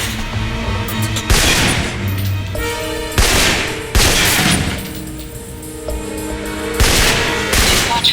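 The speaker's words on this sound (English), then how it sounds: "For long-range encounters, the assault rifle's the key." Assault rifle fire in the Alpha Protocol game comes in loud, close bursts of rapid shots several times over a few seconds, with booming impacts and echoing tails between volleys.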